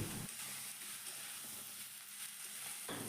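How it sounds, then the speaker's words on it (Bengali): Ginger and vegetables sauté in oil for a South Indian sambar, a soft, even sizzle and hiss that runs without a break, with faint stirring and no talk. "এখন সব কিছুকে তেলের সাথে খুব ভালোভাবে কষিয়ে নিতে হবে"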